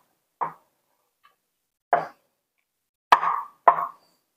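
Cheese cubes are mixed into potato samosa filling, giving four soft, close plopping and squishing sounds spaced irregularly, separated by silence.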